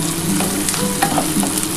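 Food sizzles and crackles in a hot pan, with a few light stirring scrapes, close and fairly loud with no voices.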